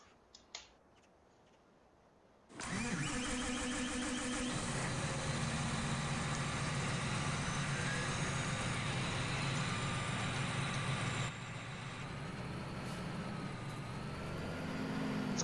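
A New Holland T7 tractor in the Farming Simulator video game cranks and starts after a short click, then idles with a steady loud diesel drone that drops slightly partway through and keeps running.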